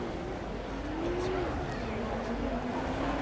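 Maserati 4.7 litre V8 climbing a hill at a supercar weekend track, a rising engine tone sweeping upward under crowd and commentary background noise.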